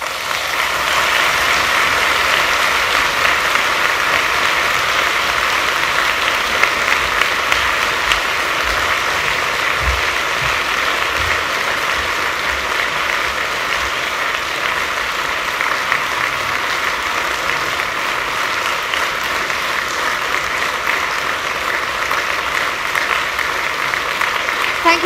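Sustained audience applause at a conference closing session, a steady, dense wash of many hands clapping that continues at even loudness throughout, with faint voices mixed in.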